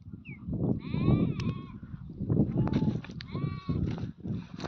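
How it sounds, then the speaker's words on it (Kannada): Sheep in a flock bleat repeatedly while grazing, several overlapping calls from near and mid distance over a steady rustling background, with the animals close by. "ಮಂದೆ ಕುರಿಗಳು ಬಂದು ಮೇಯ್ತಾ ಇದ್ದು"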